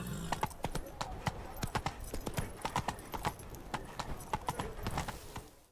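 Horse hooves clip-clopping steadily in The Witcher 3, a rhythmic run of close, distinct hoof strikes with a few soft whinnies and game voices over the top.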